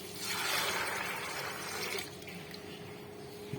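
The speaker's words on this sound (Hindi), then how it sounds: "पानी डालेंगे" Water poured steadily into a pot for cooking black chickpeas for about two seconds, a rushing splash that then thins to a quieter trickle.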